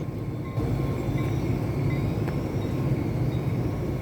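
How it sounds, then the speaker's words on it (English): A Union Pacific GP-15AC diesel locomotive heading north from a Chicago commuter terminal, its low engine rumble rising after a moment and holding steady and fairly loud, with faint metallic rail squeals above. "A GP-15AC, owned by Union Pacific Railroad, heads north from the Ogilvie Transportation Center."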